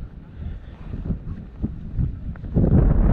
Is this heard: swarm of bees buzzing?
no